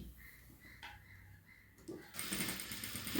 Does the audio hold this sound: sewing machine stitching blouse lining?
yes